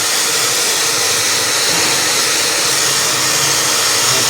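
A blower or hair dryer blasts air at chickens, a loud, steady, broadband rush that runs unbroken throughout with no talk.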